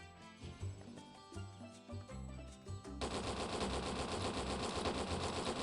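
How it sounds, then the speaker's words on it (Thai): Rapid in-game gunfire from the MMORPG Ragnarok Classic rattles in dense bursts, sparse at first and then turning into a continuous loud volley over game effects. "เดี๋ยวไปลองใส่กระสุนแล้วก็ลองยิงดูว่า ความแตกต่างมันจะยิงช้าลงเยอะไหม"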